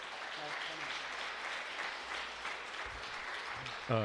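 A church congregation at a Sunday service claps steadily to welcome the pastor, a moderate even patter of many hands, with a voice beginning to speak as it ends.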